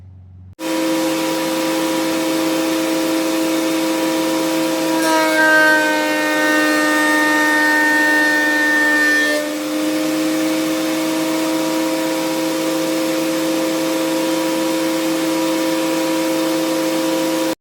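A thickness planer cutting wood while a shop vac pulls dust through its chute: a loud, steady mechanical drone with a strong whining tone that rises in pitch partway through, then settles back to a constant hum.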